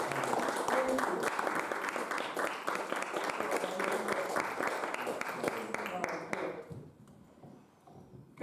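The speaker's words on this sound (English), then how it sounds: "Please, big welcome and applause for Reverend Dr. Georgia Prescott." A church congregation at a Sunday service applauds to welcome a guest minister, a broad steady wash of clapping that thins out and fades away near the end, leaving near silence.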